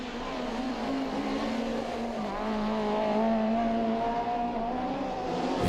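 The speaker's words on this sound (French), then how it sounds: "Et au départ, eh bien, immédiatement, Castoral réussit le meilleur en vol et prend tout de suite le large" Rallycross cars race away from the start, a steady, loud engine drone with rising tones that builds slightly toward the end, with no talk.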